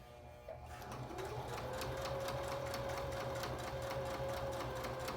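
A sewing machine runs steadily, stitching the two sides of a fabric face mask together with a 1/4 inch stitch, its rapid even needle rhythm continuing loud and close throughout.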